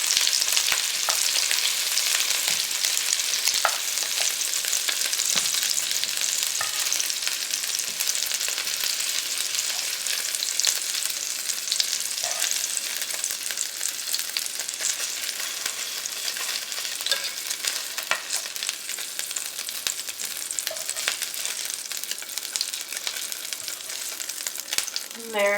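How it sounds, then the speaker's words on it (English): Meatballs searing in spitting oil make a loud, steady sizzle with frequent sharp pops and crackles that ease slightly over time. "Watch that oil too, it's spitty"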